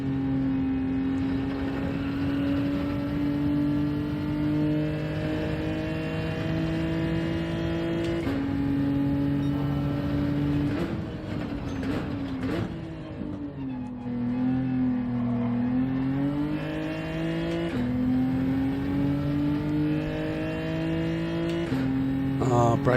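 A front-engined race car in Gran Turismo 7 drones steadily through long gear pulls, rising in pitch and then dropping at each shift, with a brief dip for braking midway; the engine stays moderate in level throughout.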